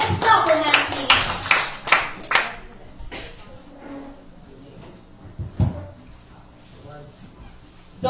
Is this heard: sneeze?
no